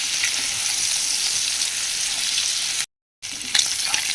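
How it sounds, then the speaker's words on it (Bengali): Prawns fry in hot oil with salt and turmeric, giving a close, steady sizzle and crackle, briefly cut out near the end, then resuming with a few sharper pops as they are stirred. "চিংড়ি মাছগুলো ভাজা হয়ে গেছে।"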